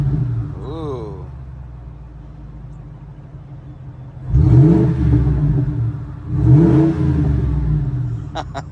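A car with loud exhaust pipes idles with a low burbling rumble, then roars through two strong revs, each swelling and falling back, heard close with a short vocal exclamation early on.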